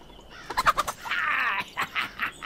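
A chicken in the pixel-art pirate game Pixel Piracy clucks in a quick burst of short calls, then gives a longer squawk followed by a few more clucks, close and clear with no talk.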